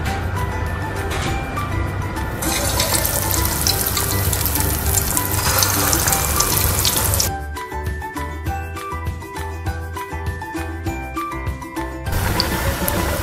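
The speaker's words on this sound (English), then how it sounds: "When the oil is hot, you can start to fry your bread rolls two at a time." Bread rolls stuffed with cheese and egg deep fry two at a time in hot oil over medium heat, making a loud, dense, continuous hiss. Partway through, a stretch of clinking, tonal sound takes over before the hiss returns.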